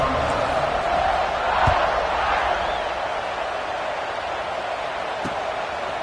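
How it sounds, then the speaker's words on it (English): Stadium crowd buzzing in the video game NCAA Football 26 after a score, a steady broad roar of many voices at moderate level with a couple of faint thumps, continuous and without clear peaks. "this crowd is buzzing after that last score"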